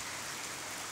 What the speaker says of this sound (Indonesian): Di sini kereta pun sudah kena mandikan oleh air hujan pada petang ini.